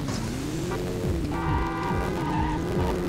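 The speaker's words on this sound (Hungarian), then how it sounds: "Wheelspin." Car engine revving with tonal whine and repeated wheelspin, skidding tire-squeal sweeps, a steady mechanical drone from Grand Theft Auto 1, no voices.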